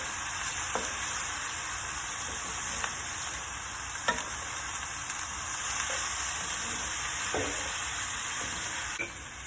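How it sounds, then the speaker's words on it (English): Minced garlic sizzles steadily in a hot pan, a constant loud frying hiss broken by a few soft scrapes of a spoon as it gets stirred. "give that a stir"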